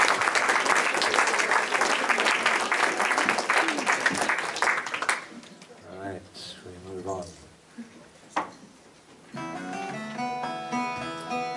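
Audience applause at a music night, steady crowd clapping for about five seconds that fades out, followed by someone talking and then a stringed instrument beginning to play.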